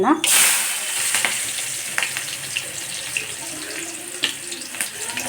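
Onion, chili and mustard seeds tempering in hot oil, giving a close, steady sizzle with scattered sharp crackles and pops throughout, a voice faintly present.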